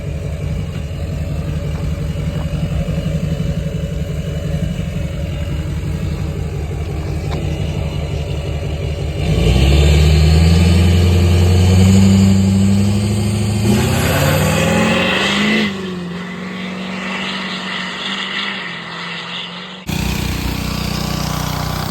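A 2006 Honda Civic Si, freshly fitted with a low-mileage swapped engine, idles loudly and steadily, then revs up in a strong rising surge and settles back to idle, close by with no talk.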